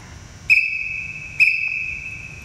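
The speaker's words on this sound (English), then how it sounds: "2 whistles means get bow" On an archery range, two sharp, shrill whistle blasts about a second apart signal archers to collect their bows. Each blast is loud and close and stands alone against quiet outdoor background noise.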